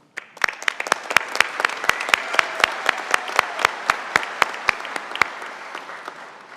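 Applause from a commencement audience at a college graduation ceremony, steady dense clapping with scattered louder individual claps, swelling then fading out over several seconds, with no talk over it.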